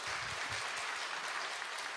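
Dense, steady applause from a church congregation fills the space, a continuous wash of many hands clapping at even loudness with no voices on top.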